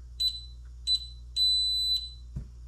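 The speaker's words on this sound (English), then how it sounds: "There, long beep." A VEVOR gun safe's electronic keypad gives two short high beeps and then one longer beep, close and clear, ending with a soft thud.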